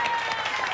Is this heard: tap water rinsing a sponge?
no